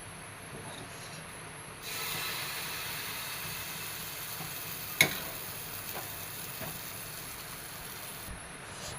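Dosa and idli batter sizzles steadily in a hot pan, a low continuous frying hiss with one brief sharp click partway through and no talking.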